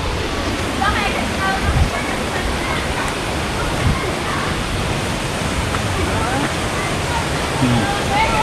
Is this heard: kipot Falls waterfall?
yes